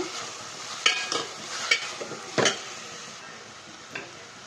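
Tomatoes with salt and turmeric are stirred in a pan for tomato rasam, a spoon scraping and knocking the pan in a few sharp strokes over a soft sizzle, with no voices.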